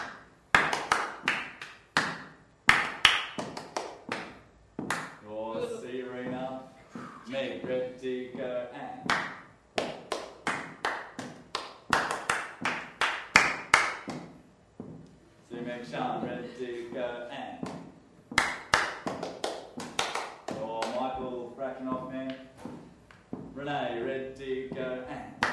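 A hand clapping game, with crisp rhythmic claps and hand taps in repeated bursts, close by and loud, alternating with children's rhymed chanting and an adult voice calling turns.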